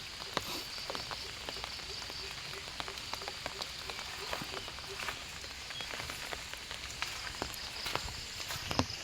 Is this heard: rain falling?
yes